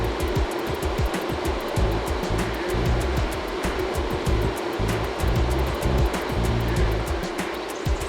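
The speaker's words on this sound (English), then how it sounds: "Next, we diffuse the ozone into the water as tiny bubbles." Ozone gas diffuses into water as tiny bubbles inside a concrete tank at a municipal water treatment plant in Mississauga, heard as a steady, dense, loud hiss and rush of bubbling water with a low churning rumble and no speech.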